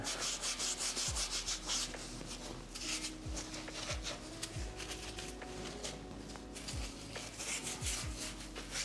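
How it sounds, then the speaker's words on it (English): A Scotch-Brite pad scrubs firmly over the surface of an engine part in repeated rasping back-and-forth strokes, steady and close, with faint tonal hum in the background. "It's fun that Scotch-Brite is really not that strong, so you can really push on it without damaging the surface itself."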